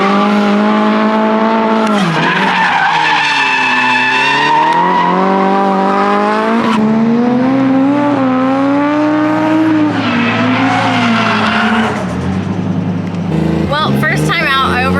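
Toyota JZX100 drift car lapping a track, its engine screaming loud and close as revs climb and fall through gear changes, with tire squeal and skidding mixed in and a voice talking over it.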